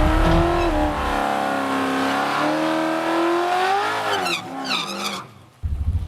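The Crusher Camaro with a new LS engine makes its first run, its V8 roaring at high revs in a long sustained pull. A quick gear-change flutter follows, then a sudden cut and the engine picking up again.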